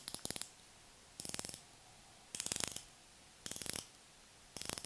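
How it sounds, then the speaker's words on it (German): A Casio MDV 106 'Pepsi' dive watch bezel turned in five short bursts of rapid, crisp ratcheting clicks, each run lasting about half a second and separated by pauses, close to the microphone with no talking. "Die Lünette klickt mit 120 Klicks und rastet auch sehr sauber ein."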